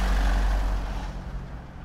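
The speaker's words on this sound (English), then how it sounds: "A large truck abruptly arrives." A large truck pulls in as a sound effect for an audio comic, heard as a loud, deep engine rumble that fades slightly over about two seconds, with no voices.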